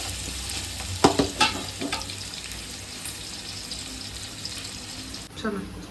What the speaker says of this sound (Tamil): அதை எடுத்து கட் பண்ணி வச்சு நல்லா வதக்கணும். நல்லா வதங்கி வரட்டும்.